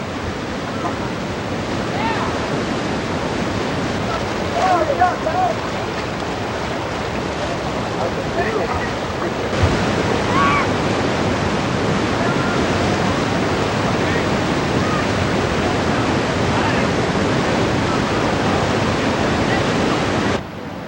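River water rushes steadily through the Chute on the Comal River at New Braunfels, a loud, continuous wash of rapids with no break.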